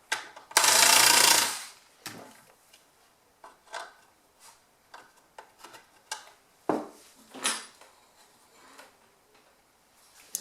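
Small screwdriver unscrewing screws from the back of a motorcycle headlight projector housing, heard as a burst of noise followed by sparse, faint clicks and small metallic ticks spaced irregularly.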